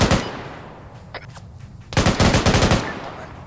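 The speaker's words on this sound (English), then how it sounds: "I can't hear you with that gun." Automatic gunfire from a video game: a short burst opens, then after a pause a louder, rapid stream of shots rattles for about a second, close and harsh.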